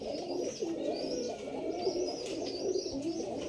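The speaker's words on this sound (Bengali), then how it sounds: "এটা খুবই ভালো কবুতর উড়ার জন্য।" Rajshahi Giribaz pigeons in a cage coo softly and continuously nearby, their throaty calls rising and falling in overlapping waves.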